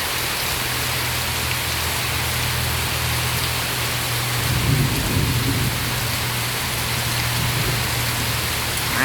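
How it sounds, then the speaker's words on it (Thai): Steady heavy rain pours down, with a low rumble of thunder rolling in around the middle and lingering underneath. "เสียงฝนตกนะคะ เสียงฟ้าร้องนะคะ เสียงจริงค่ะ"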